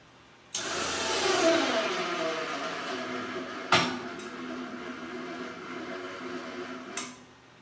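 A winch motor strains as it lifts a homemade single-post ATV lift, starting abruptly into a loud, steady mechanical whine. Sharp clunks break in midway and again near the end.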